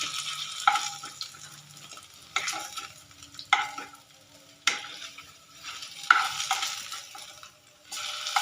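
Something frying in oil during chilli potato preparation, a soft sizzle broken by repeated bursts of scraping as a utensil stirs around the pan, each stroke rising and fading, no voices.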